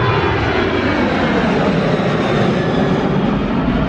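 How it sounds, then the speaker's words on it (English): Loud, steady jet roar of an airplane taking off at an airport plane-spotting spot, a broad continuous rumble filling the whole stretch without letting up. "I thought we'd come here to have some planes set off"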